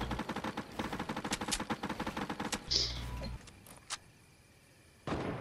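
Fortnite gunfire: a fast, evenly spaced automatic volley for over two seconds, then a few scattered single shots and a thump, fairly quiet, with no talk.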